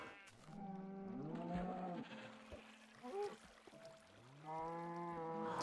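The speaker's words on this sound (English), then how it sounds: "Maybe even some sheep." Sheep bleating in the Minecraft video game on Xbox 360, several wavering bleats in a row with a short pause midway, fairly loud and close, with a watery splash-like game sound mixed in.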